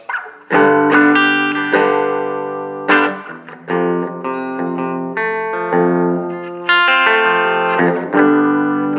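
Clean electric guitar tone through the clean channel of a Marshall MG10CF amplifier, switching between neck and bridge pickups, playing ringing chords and notes with clear attacks and sustain, no voices.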